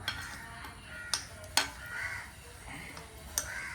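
Green chillies being stirred in a cooking pot in a home kitchen, soft scraping and stirring with a few sharp clinks of utensil against metal, close and fairly quiet over low background noise.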